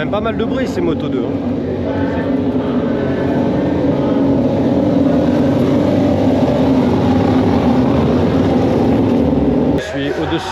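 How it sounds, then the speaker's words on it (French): MotoGP race bikes run near the pit garages at the Indonesian circuit, producing a loud, sustained, buzzing engine wail that holds steady and cuts off abruptly near the end, with speech mixed in. "Elles font quand même pas mal de bruit ces motos 2"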